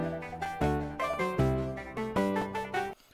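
A bright Electro-X synthesizer plays a rhythmic melody of sustained, harmonically rich notes with regular attacks, loud and clear with no voices.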